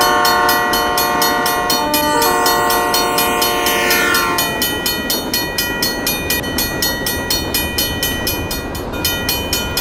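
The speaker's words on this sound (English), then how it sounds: "First up CN 3047, but with BC Rail 647 trailing, and with a good P3 horn." Animated CN freight train sounding a P3 horn, loud sustained multi-note chords over the rhythmic clickety-clack of wheels, the horn falling away midway while the rolling clatter continues.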